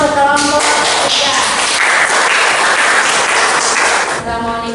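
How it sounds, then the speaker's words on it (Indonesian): Loud, dense applause from a class of students clapping for a presenting group during a lesson, sustained for several seconds with a few voices briefly audible at the start and end. "tepuk tangan untuk kelompok 3"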